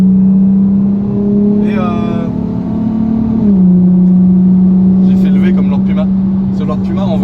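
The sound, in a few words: car engine revving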